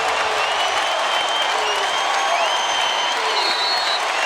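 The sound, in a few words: basketball crowd cheering in Louisville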